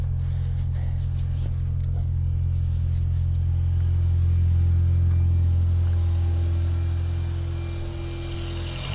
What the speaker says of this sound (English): Dan, see if we can get the turbo flutter.